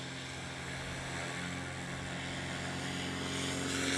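A STOL airplane's propeller engine roars steadily at full power during a takeoff or landing competition at an airport, a loud continuous drone that builds slightly toward the end.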